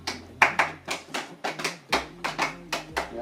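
Sharp clap hits from a music track in the making of a song, crisp evenly spaced claps repeating in a steady rhythm over a low sustained bass note, close and dry.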